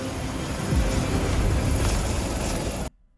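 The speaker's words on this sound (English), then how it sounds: "As their helicopter is coming into land at SeaWorld, another is taking off." Helicopters land and take off at a SeaWorld helipad, filling the clip with a loud, steady whirring rotor and engine roar that cuts off abruptly near the end.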